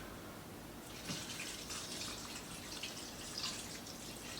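Chicken stock is poured into an Instant Pot over rice, a soft continuous liquid splashing and trickling that stays fairly faint and steady throughout, with a few brighter splashes.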